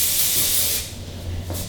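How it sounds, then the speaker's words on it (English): A can of do-over hair spray released in one steady hiss for under a second during styling of curled hair, close and fairly loud, then fading to quiet. "I'm just going to be using my do-over spray"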